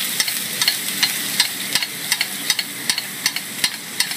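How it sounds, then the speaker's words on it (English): Hot butter sizzles in a pan as it is spooned over seared scallops, with rhythmic splashing pops from each basting stroke over a steady frying hiss. "I'm going to add butter in this and baste my scallops"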